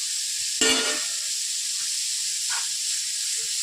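Spring onion with salt in a pan gives a steady faint sizzle, broken by one loud, sharp scrape of a spoon against the pan near the start and a couple of softer clinks later.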